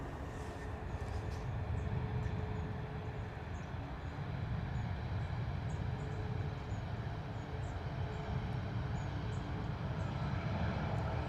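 A Ryanair airliner lands at London Stansted Airport. Its reverse thrust makes a steady, moderate roar that stays fairly constant and sits at a distance, with no talk over it.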